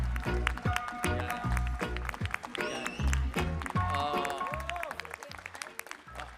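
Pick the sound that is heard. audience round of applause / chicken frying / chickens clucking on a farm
audience round of applause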